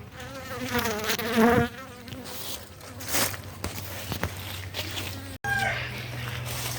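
A steady honeybee buzz hums throughout, with a louder close pass early on and some handling noises, like bees swarming around an open hive.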